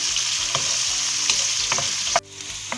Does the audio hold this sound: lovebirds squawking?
no